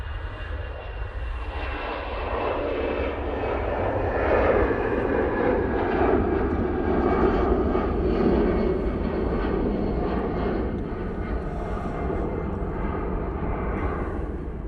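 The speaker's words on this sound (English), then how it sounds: "EasyJet now on the roll." An EasyJet airliner accelerates down the runway at Manchester Airport in low visibility, its engines a steady broad roar that swells slightly midway and holds loud throughout, with no talk over it.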